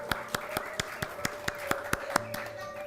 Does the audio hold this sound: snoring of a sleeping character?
no